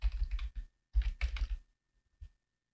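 Short bursts of keystrokes on a computer keyboard, close and crisp, typing text in a couple of quick runs separated by a pause, then a single final tap, no voices.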